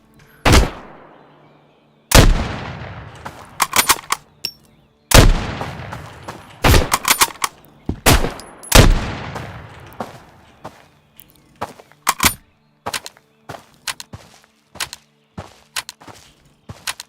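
Gunfire in a shooter video game: sharp, loud single shots and quick bursts crack out at irregular intervals, some spaced by pauses, with echoing tails and faint clicks between.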